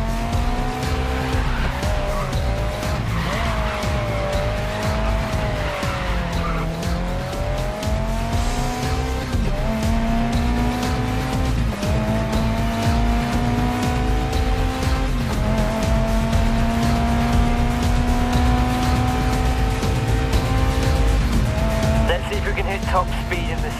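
A car in GRID Legends racing gameplay holds a steady engine roar while its tires squeal through a handbrake slide, with pitch rising and falling through the corners. A voice talks over it throughout.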